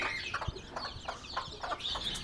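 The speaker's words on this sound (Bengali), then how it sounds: "অনেকগুলা মুরগির বাচ্চা।" Many young layer chicks cluck and peep together in a farmyard, a busy overlapping chorus of short calls close by and fairly loud, with no talking.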